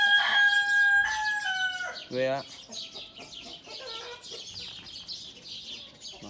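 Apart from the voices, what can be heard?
Indian game roosters crowing and clucking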